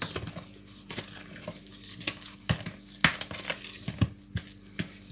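A wooden spoon stirs marble cake batter in a bowl for a no-oven cake, giving soft wet sloshing with irregular sharp clicks and taps of the spoon against the bowl, close by and with no voices.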